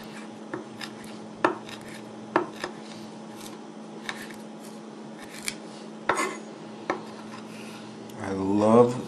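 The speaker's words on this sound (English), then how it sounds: "Just chop the sage up a little bit." Fresh sage chopped with a knife on a board: sparse, irregular sharp taps spread over several seconds, ending in a short rubbing, scraping sound.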